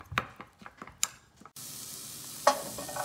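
Catfish paste dip being stirred and mixed in a Khmer kitchen, a few soft scraping taps followed by a steady hiss, close and quiet with no talking.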